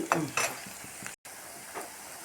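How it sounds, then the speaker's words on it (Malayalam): Green beans frying in a pan, a soft continuous sizzle with a few scraping stirring strokes near the start, quiet and close, briefly cutting out for a moment. "ബീൻസൊക്കെ മൂത്ത് വരുന്നത് കേട്ടോ"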